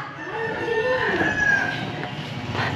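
Chickens cluck and a rooster crows close by on a farm, the calls rising and falling over a steady background hum.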